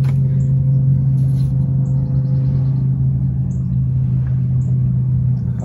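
An outboard motor with a bad fuel pump runs steadily, a loud continuous low rumble with a hum and no break, sounding close and unchanging throughout.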